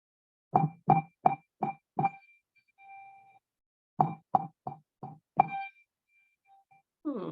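Handbells struck in quick martellato strokes, a series of short dull chimes with brief ringing tones between, in two clusters separated by a pause.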